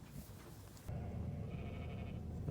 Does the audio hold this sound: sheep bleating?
yes